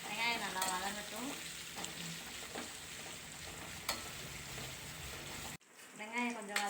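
A medium-size onion sautéing in a pan for kovakkai poriyal makes a steady frying hiss with a few stirring knocks, while a voice talks over it at the start and again near the end.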